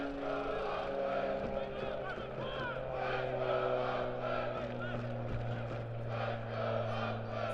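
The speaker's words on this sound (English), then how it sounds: "A sold-out crowd tonight at Laney." Sold-out crowd at a soccer match between Oakland Roots and Monterey Bay at Laney College, a continuous distant roar of stadium noise with a steady low hum throughout.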